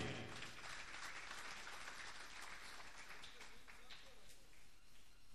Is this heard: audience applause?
yes